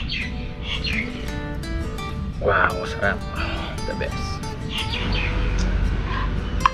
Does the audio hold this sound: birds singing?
yes